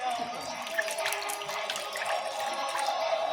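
Water runs steadily from a tap into a sink in a home kitchen during idli preparation, giving a continuous hiss and splash at close range, with faint voices in the background.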